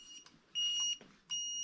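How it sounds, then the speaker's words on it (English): A Spy 5000 motorcycle alarm goes off nearby, sounding a shrill, steady electronic tone in two sustained blasts separated by a short gap, preceded by a brief chirp. "And the alarm's triggered."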